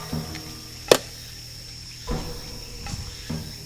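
A single sharp, loud crack from bamboo in a forest in Japan rings out against a quiet night backdrop of steady insect chirring, followed by a couple of softer knocks.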